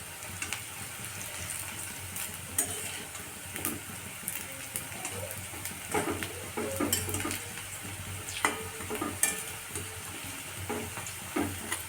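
Vegetable pakoras fry in hot oil over a gas flame, giving a steady crackling sizzle with scattered clinks of a metal utensil stirring and lifting them, close and without talk.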